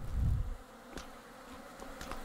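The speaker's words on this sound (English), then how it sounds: "angry bees in a cave" Angry bees swarm in a cave in the video game Vintage Story, giving off a steady, droning buzz after a brief low rumble at the start.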